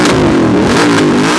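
Fitted with an SC Project short can exhaust, an Aprilia RS 457 motorcycle blips its engine in a brief, loud, close rev that swells and falls within a second and a half, without talk.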